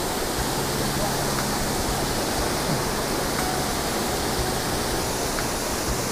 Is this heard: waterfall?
yes